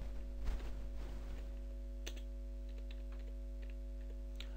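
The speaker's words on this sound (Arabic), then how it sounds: "بكتب هنا كده الاسم اللي انا عايزه" Typing a file name on a computer keyboard: a few soft key taps at the start and scattered clicks later, faint under a steady electrical hum.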